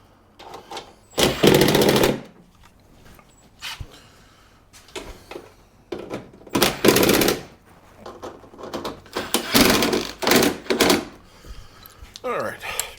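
Car parts are tightened down with a socket in repeated bursts of ratcheting clicks and rattles at close range, with short pauses between the runs.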